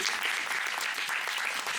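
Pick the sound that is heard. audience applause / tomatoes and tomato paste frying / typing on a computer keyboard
audience applause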